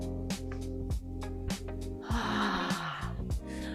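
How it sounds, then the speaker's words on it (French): Breathing during a guided body wake-up exercise, a deep inhale through the nose followed by a long, breathy exhale through the mouth, heard close and clear over soft, sustained background music. "On inspire par le nez, par la bouche."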